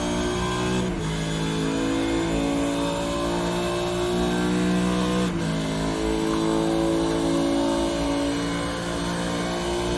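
Supercars race car in iRacing at Road America, engine screaming loud and close as it accelerates hard down a straight, pitch climbing through each gear with sharp shift breaks, alone without talk.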